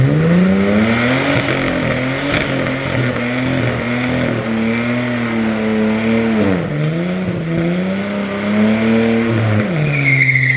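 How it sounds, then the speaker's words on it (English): A ute with no water in it does a mini burnout, engine revving hard and rising and falling in pitch while the tyres squeal steadily for about ten seconds, loud and close. "we're gonna do like a mini burnout in it with no water in it"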